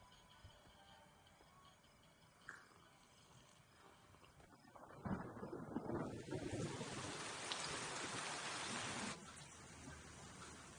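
Rain starts quiet, then swells into a steady, loud hiss of falling rain that eases again toward the end, with no speech.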